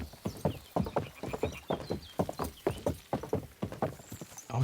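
Horse hooves clip-clopping at a walk in the medieval game Kingdom Come Deliverance 2, a steady rhythmic series of close, hollow thuds alone without talk.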